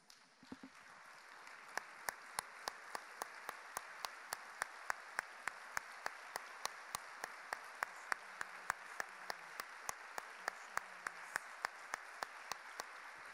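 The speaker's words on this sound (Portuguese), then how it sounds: "Vamos ficar de pé e vamos dar um aplauso ao Senhor juntos." A church congregation standing to applaud together: a steady wash of crowd clapping with sharp, regular rhythmic claps punching through at an even beat, fairly distant and moderate in level.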